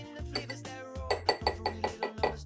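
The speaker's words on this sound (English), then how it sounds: "I'm going to put this into my cocktail, my mint julep, and I'm going to mix that around" A mint julep being stirred in a glass, a spoon clinking rhythmically against the sides in a quick series of bright, close chimes, with no talking.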